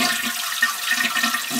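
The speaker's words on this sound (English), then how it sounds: "Flushing it and keep flushing it." An old toilet that leaks water at the flange is flushed, giving a steady close rush of draining and refilling water for under two seconds with no voices.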